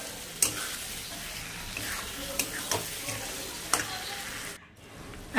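Spices fry in a pan with a steady sizzle while a utensil stirs them, giving several sharp scraping clicks; the hiss drops briefly near the end as if water is added.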